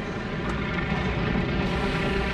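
Enemy torpedo bomber aircraft in a naval video game give off a steady, loud, droning engine roar that holds constant throughout with no voices over it.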